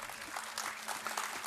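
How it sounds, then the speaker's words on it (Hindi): Audience at a mushaira poetry gathering clapping, a moderate, fairly distant patter of many hands sustained throughout. "तो इनके लिए ज़ोरदार तालियां।"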